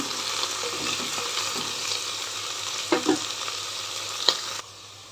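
Okra frying in a pan, a steady close sizzle with a few louder stirring scrapes and a sharp clink near the end before it quiets.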